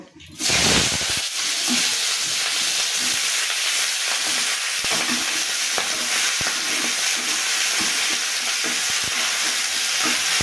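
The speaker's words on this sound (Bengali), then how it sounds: "এবার আমি পেঁয়াজগুলিগুলো তেলের মধ্যে দিয়ে দেবো" Onions hit hot oil in a heated kadai with a sudden loud burst, then settle into a close, steady, crackling sizzle with occasional stirring clicks that continue to the end.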